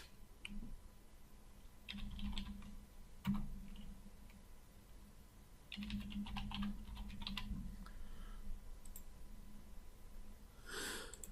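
Typing on a computer keyboard, entering a username and password while setting up a database: quiet bursts of rapid key clicks separated by pauses, close and faint, with no talking.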